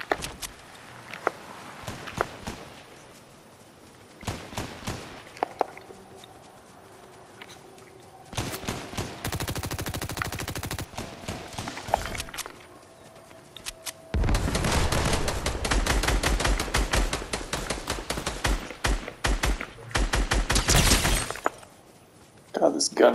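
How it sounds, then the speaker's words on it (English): Bursts of Fortnite gunfire crackle in clustered volleys, with footsteps and scattered clatter between them. The densest rapid firing comes late, and players talk throughout. "God, this gun is so inaccurate."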